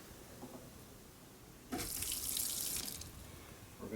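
Water flushes from the test cock of a spring-loaded vacuum breaker (SVB) backflow assembly in a sudden hissing, splashing rush that lasts over a second before easing, against a steady background hiss.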